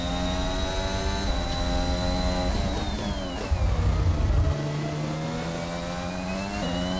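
A Formula 1 car engine in F1 2021 driven around a lap, loud continuous whining with layered harmonics that dip in pitch midway and climb again, steady and close with no talk.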